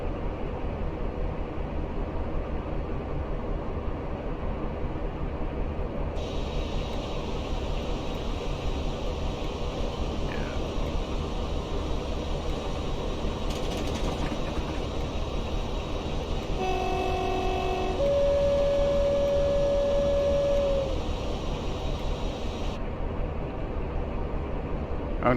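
Class 47 diesel locomotive in the Train Simulator Classic game hauling a train from Shrewsbury toward Bristol Temple Meads, heard as a steady rough rumble with a brief horn toot partway through, continuous and fairly loud.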